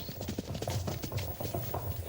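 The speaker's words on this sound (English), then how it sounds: "We can hear a horse behind you, galloping, I think." A horse gallops on grass in a radio-drama scene, with a quick, uneven drumming of hoofbeats close by that carries steadily throughout.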